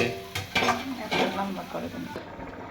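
A pan of potatoes, taro and rohu fish is being stirred as it cooks. A spoon scrapes and clinks against the pan in irregular strokes over a soft sizzle, and the whole thing is fairly quiet.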